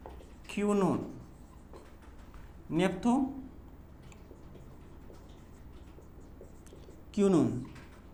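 Chalk or marker scratches across a board during a Hindi-language lesson on vitamins, in three short bursts of strokes separated by quiet pauses.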